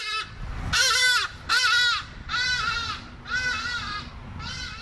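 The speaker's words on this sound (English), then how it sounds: "The African alarm clock you never have to set, the Hadedas ibis." Loud, harsh, nasal calls from a hadeda ibis, repeated several times in a raucous series, close by over a low background hum.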